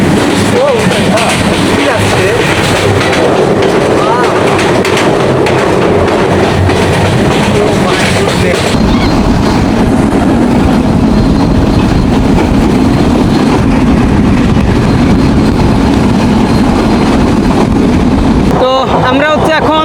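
Bonolota Express train rolling onto the Jamuna rail bridge, a broad-gauge double-line crossing in Bangladesh, with a loud, continuous rumble that shifts in tone midway as the carriages reach the bridge and a brief rattle near the end.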